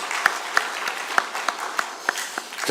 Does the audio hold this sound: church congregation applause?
yes